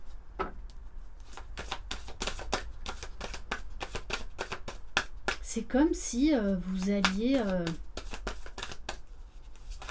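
Oracle cards from a magic heart deck being shuffled by hand, a rapid run of crisp riffling clicks close by, with someone speaking French over the middle of it.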